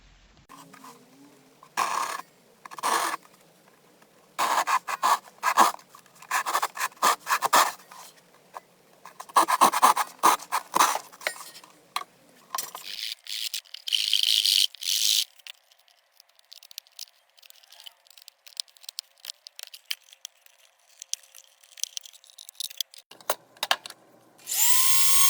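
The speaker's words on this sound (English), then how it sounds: "I'm going to basically get a saw and just cut huge chunks out of this" A saw cuts large chunks from a cigar box violin body in repeated rasping strokes, coming in bursts of varying loudness with brief pauses, then dropping to quieter, scattered scraping.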